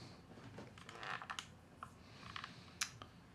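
Typing on an old computer keyboard: a quiet, irregular run of close key clicks and taps over faint background hum, with no talking.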